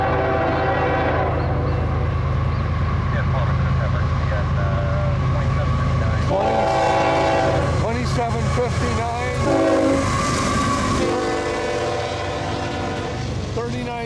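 Eastbound CN freight train passing at Beachville, Ontario, with locomotives 2759, 3937 and DPU 2921: a loud steady rumble of wheels and cars with the horn blaring in sustained tones, heard close, with a voice talking over it.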